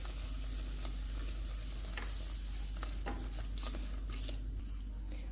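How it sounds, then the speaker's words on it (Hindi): Flour roasting in hot butter over low heat, a quiet steady sizzle with intermittent stirring scrapes over a constant low hum. "कम आंच में मैदे को भूनेंगे"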